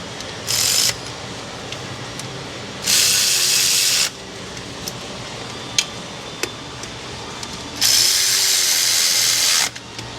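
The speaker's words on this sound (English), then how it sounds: "I may now go back up and tighten up the remaining bolts here on this cover" A power tool or ratchet on a socket spins in three separate bursts, tightening the oil pan cover bolts on a Chevy Express 2500 with a 6.0 engine, with faint clicks and handling noises between the runs.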